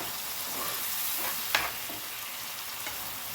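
An onion, tomato and cashew paste fries in a pan for egg masala curry, giving a steady close hiss of sizzling with one brief louder stir-scrape midway, no voices.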